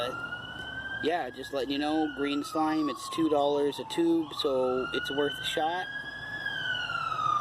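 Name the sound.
ambulance siren passing by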